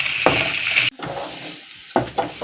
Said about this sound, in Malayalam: ഇനി ഇതെല്ലാം കൂടി നമുക്ക് നമ്മുടെ മാങ്ങയിലോട്ട് ചേരുന്ന തരത്തിലോട്ട് മിക്സ് ചെയ്ത് കൊടുക്കാം